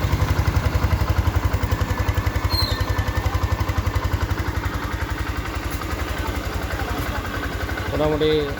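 A Yamaha FZS V2 motorcycle idles up close with a steady, even thumping beat that holds throughout, with a brief rise in noise near the end.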